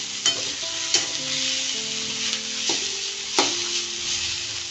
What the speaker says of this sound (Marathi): कांदा आपण ब्राऊन होईपर्यंत भाजून घ्यायचा आहे